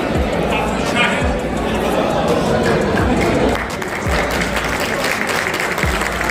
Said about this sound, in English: Applause, everyone. Round of applause.